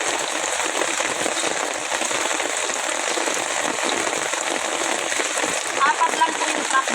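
Very heavy rain pours down steadily outdoors, a dense, loud hiss of drops pelting surfaces without letup throughout.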